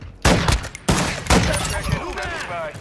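Modern Warfare II video game gunfire: several sharp, loud shots crack in quick succession over dense game noise, with a player's voice present in the background.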